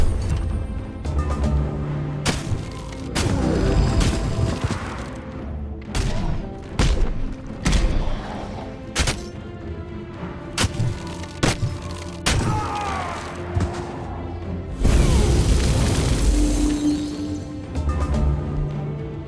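Barrage explosions in Age of Wonders 4: a series of sharp, heavy thuds and booms spaced irregularly over ongoing battle noise and music, with a dense, louder cluster of blasts late in the sequence.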